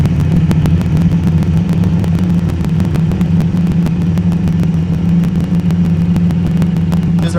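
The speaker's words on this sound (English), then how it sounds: "I'm now holding the throttle open." Harley-Davidson Street 500 motorcycle engine, converted to 750, running steadily with the throttle held open, a loud, continuous low drone close to the machine with faint ticking clatter throughout, no voices.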